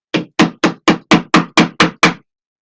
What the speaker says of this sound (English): Yeah, you can use this as a hammer.